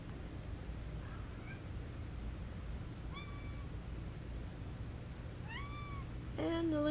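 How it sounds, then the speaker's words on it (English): A cat meows a few times over a low steady hum, the calls short and close, with a louder, longer meow at the end. "coming to meow at me during this voice recording session"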